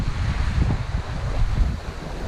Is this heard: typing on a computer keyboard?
no